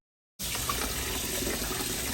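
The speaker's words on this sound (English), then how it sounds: "Wash the rice until the water is clear." Rice being washed under steadily running tap water, a continuous close hiss and splash that starts abruptly and carries on without talk.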